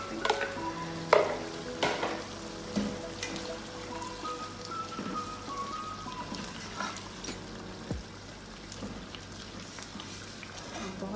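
Chickpeas are tipped into a pan and stirred while cooking for murgh cholay, giving close sizzling and frying with scraping spoon strokes and occasional thuds against the pan.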